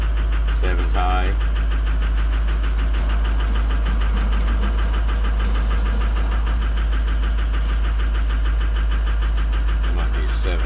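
A Ford 6.0 Powerstroke diesel in a Super Duty bucket truck, with a faulty cylinder 7 injector, idles loud and close with a steady rhythmic knock and clatter. A voice speaks briefly near the start.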